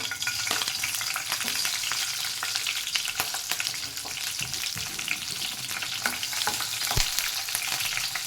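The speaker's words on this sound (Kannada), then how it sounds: "ಈಗ ಎಣ್ಣೆ ಬಿಸಿ ಆಗಿದೆ ಇವಾಗ ಇದಕ್ಕೆ ಹಸಿಮೆಣ್ಸಿನ್ಕಾಯಿ ಹಾಕೊತೀನಿ" Green chillies fry in hot oil in a kadai with a dense, continuous crackling sizzle, close and steady throughout, broken by a few sharper pops and no voices.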